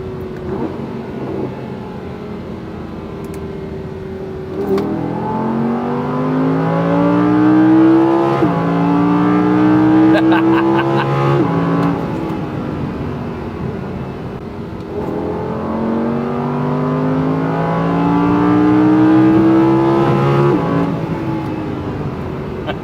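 An Audi R8 V10 revs through its exhaust, loud and close, its pitch climbing in two long sweeping pulls separated by a drop back to idle, with no talking.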